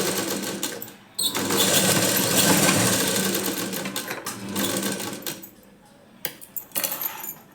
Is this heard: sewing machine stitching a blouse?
yes